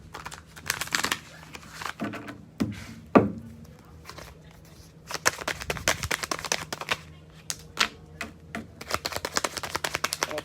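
Dense, irregular flurries of crisp paper slaps and riffles from a deck of affirmation cards being shuffled close by, with brief pauses and a soft low hum underneath.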